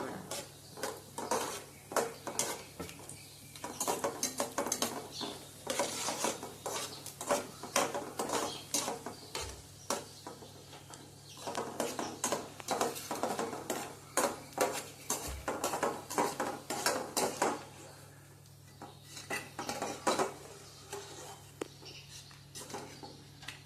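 Cut cashew and almond pieces are fried briefly in a pan for mango barfi, heard as a quiet, rhythmic scraping and stirring clatter that continues steadily with short pauses.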